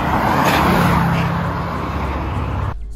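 A Subaru Impreza WRX STI Prodrive rally car's turbocharged engine drones loud and steady nearby, a sustained rumble that holds for nearly three seconds before cutting off abruptly.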